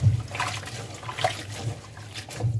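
Starfruit flowers are rinsed in water, a steady close trickling and splashing with small surges and no speech.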